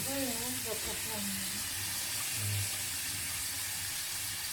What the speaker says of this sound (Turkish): Bol suyla böyle yıkıyor.